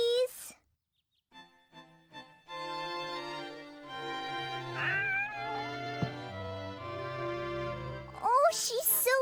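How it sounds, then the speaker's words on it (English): A kitten meows in the PlayStation 2 game Shadow of Memories, a series of high, thin mews over soft game music, with a louder cry near the end. "Oh, you've got a kitten, haven't you?"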